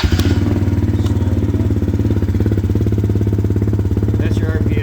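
An ATV engine idles steadily at close range with a loud low-pitched rumble, a continuous pulsing drone that carries through the whole clip and has a few light clicks and clatter mixed in.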